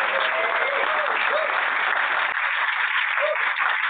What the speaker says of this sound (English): I would like to give a round of applause for all 10 of the REs.